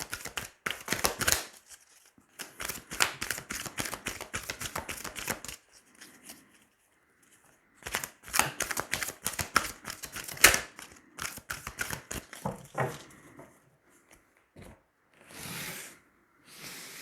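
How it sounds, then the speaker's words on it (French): Tarot cards are riffled and shuffled in quick bursts, then drawn and laid down with soft slaps and rubs, alternating with short pauses and a few faint sliding sounds. "Allez, on va tirer 9 cartes."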